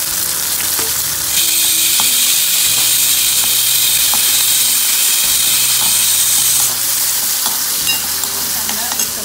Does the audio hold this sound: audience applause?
no